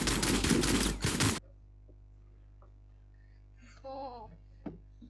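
A burst of rapid, loud video game gunfire rattles for over a second, then stops, leaving a low hum, with brief speech and a single sharp shot later.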